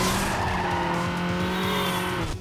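Racing cars from the video game Need for Speed Underground roar with loud, steady engine drones and rising tones, joined by squealing tires, continuous for a couple of seconds before cutting off abruptly.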